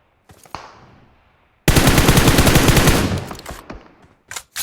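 Automatic gunfire in PUBG Mobile bursts in loud and close for over a second of dense rapid shots, then tails off, with a few scattered single shots and brief bits of game noise around it.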